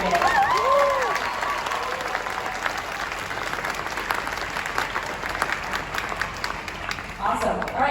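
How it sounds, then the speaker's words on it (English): Audience applause for a 5th grade band at a school band festival, a dense clapping wash heard throughout, with a brief voice or microphone feedback near the start and a swell again at the end. "So one more round of applause for that 5th grade band."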